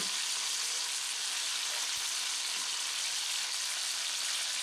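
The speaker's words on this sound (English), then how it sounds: "Take the eye round, give it a flip." Eye round beef sizzles in a hot pan after being turned, a steady, dense frying hiss with a few soft clicks, close and continuous without voices.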